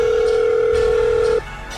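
A telephone dial tone hums steadily for about a second and a half, a loud pure tone that cuts off abruptly, leaving quiet background.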